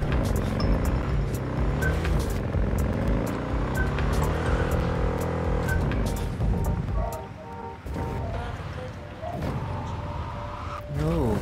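A motorcycle engine drones in the Cyberpunk 2077 video game as the bike is ridden through the city, a steady mid-level hum that shifts in pitch near the end, with someone talking over it.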